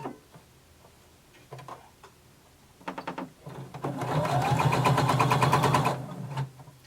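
A sewing machine stitches close to a pressed fabric edge, a rapid rhythmic whirr building after a few scattered ticks and short starts, running steadily for about two seconds before slowing and stopping.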